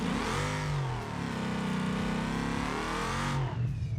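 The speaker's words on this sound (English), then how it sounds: "I guess we should do a burnout real quick" A car in the BeamNG driving game, with locked diffs and a boost map setting, does a burnout: loud, sustained high engine revving with a steady roar that dips briefly near one second, then surges again and eases off near the end.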